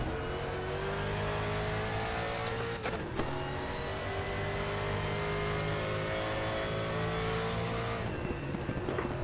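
Race car engine in the RaceRoom racing game, a steady, loud, sustained drone with shifting revs and brief gear-change dips, close and continuous with no talk over it.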